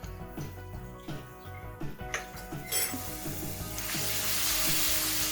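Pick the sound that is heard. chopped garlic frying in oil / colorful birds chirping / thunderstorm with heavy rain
chopped garlic frying in oil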